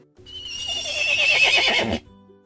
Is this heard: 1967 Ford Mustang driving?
no